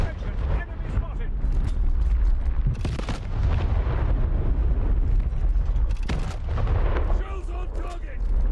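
Battleship shells exploding in the naval combat game War Thunder Mobile: a dense barrage of heavy booms and rumbling blasts that continues without pause, with louder impact bursts near three and six seconds.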